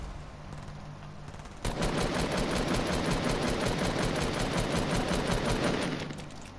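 Rapid automatic gunfire in an online video game erupts after a quieter start and holds as a dense, continuous burst of shots before trailing off, moderately loud and with no voices over it.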